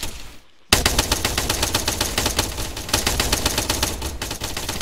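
Sustained rapid airsoft gunfire in an outdoor skirmish game, a dense continuous rattle of shots starting abruptly after a brief quiet moment and holding loud and steady to the end.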